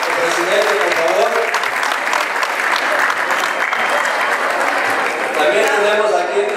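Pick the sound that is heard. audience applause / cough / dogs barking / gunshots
audience applause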